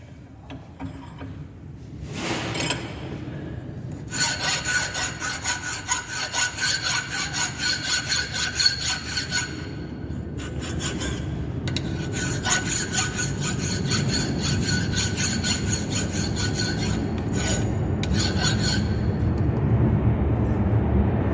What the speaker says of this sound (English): Now if we will file this side, so while filing we have to hold like this manner